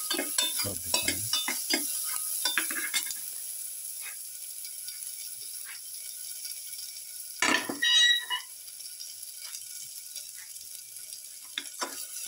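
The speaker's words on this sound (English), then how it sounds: "Keep on sauteing." Chopped garlic sautéing in a pan for a pepper chicken potato stew, with bursts of stirring and scraping early on, a quieter sizzle through the middle, then a loud clatter of stirring near the end.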